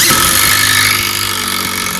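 A Makita impact driver runs steadily for a couple of seconds, loud and close, with a dense rattling buzz of impacts and a sustained high whine.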